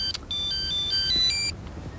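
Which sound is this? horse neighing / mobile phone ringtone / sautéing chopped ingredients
mobile phone ringtone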